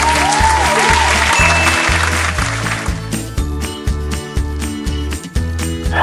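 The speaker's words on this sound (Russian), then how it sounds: "Зрители очень громко хлопают." Loud audience applause for a dancer at a ballet dance contest fills the first half as a dense wash, then thins out under a thumping musical beat.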